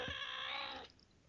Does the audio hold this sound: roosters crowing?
no